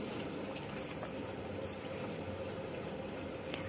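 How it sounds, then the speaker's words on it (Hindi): A Haier automatic washing machine takes in water, a steady, quiet rushing hiss of water pouring into the drum that continues evenly throughout, with no talk over it. "मशीन ने पानी लेना स्टार्ट कर दिया"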